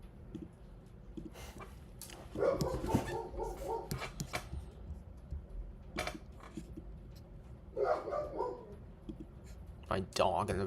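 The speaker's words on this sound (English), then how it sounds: "My dog in the background, bro." A dog barks a few times in the background, short muffled bursts heard under someone talking during a live severe weather broadcast.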